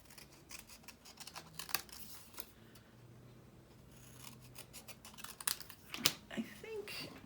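Scissors snipping out paper pieces for a journal, quiet close snips and paper rustling, with someone talking softly.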